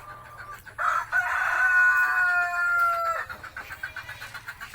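Plymouth Barred Rock chickens in a free-range pen call out close by, one loud drawn-out crow-like cackle followed by a run of short rhythmic clucks.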